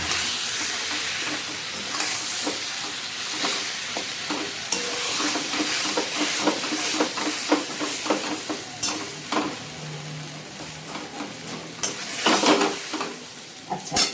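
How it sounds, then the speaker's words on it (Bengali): Sugar and chillies are stirred in a frying pan over a lowered gas flame for a Bengali vegetarian dish, with a continuous close sizzle and repeated scraping strokes of the spatula throughout. "চিনিটা লঙ্কাটা পুড়ে যাবে, সেই জন্য নেড়ে নিচ্ছি।"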